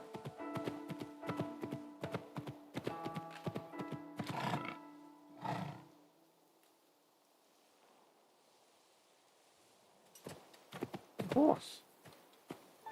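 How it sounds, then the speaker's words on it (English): A horse in the video game Assassin's Creed Shadows clip-clops along with busy hoof beats, gives a loud whinny near the start and snorts, then falls quiet before more hooves and a sharp neigh return near the end. "Horse."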